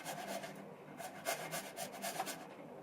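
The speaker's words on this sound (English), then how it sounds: "we're going to take and grate the garlic." A clove of garlic is rubbed against a kitchen grater, producing a quiet, close, rhythmic rasping of short scraping strokes.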